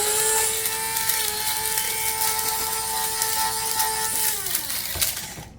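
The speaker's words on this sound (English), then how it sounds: "I have gently toasted my pasilla pepper and put my cinnamon stick in the spice grinder." A spice grinder whirs loudly with a steady motor hum as it grinds toasted pasilla pepper and a cinnamon stick, then winds down and stops near the end.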